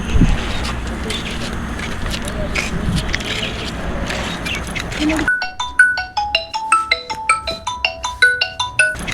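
A phone ringtone chimes in a repeating pattern of bright tones, an unanswered call playing on, after a stretch of muffled background noise and talking.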